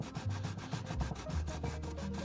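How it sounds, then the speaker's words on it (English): Steady, rhythmic back-and-forth scrubbing of a sanding sponge against a prop proton pack surface, close and fairly quiet, with no talking. "Very useful thing, sanding sponges."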